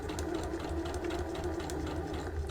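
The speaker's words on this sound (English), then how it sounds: "So we're going to sew to the corner," Domestic sewing machine stitching a fabric gift wrap up to a corner, a steady close whirring motor hum with fast even needle chatter, running without a break and with no talk.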